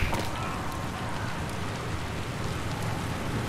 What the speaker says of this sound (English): Raining cats and dogs, eh?